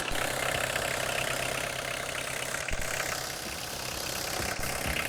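Diesel car engine idling in the open, a steady loud rattly clatter throughout with a couple of brief knocks.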